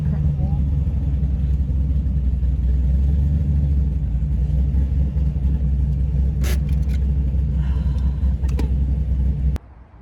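A manual Chevrolet Camaro is driving, heard from inside the cabin as a steady, deep engine and road rumble with a few brief rattles, cutting off suddenly near the end.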